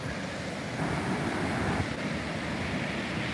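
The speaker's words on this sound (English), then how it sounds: "The waves aren't that big yet" Gulf of Mexico waves roll ashore at Panama City Beach as a hurricane approaches, heard as a steady surf wash mixed with wind buffeting, moderately loud and without voices.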